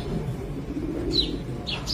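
Pigeons of good breeds cooing nearby, low soft coos over a steady murmur, with a couple of brief higher chirps toward the end.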